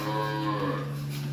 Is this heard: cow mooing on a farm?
yes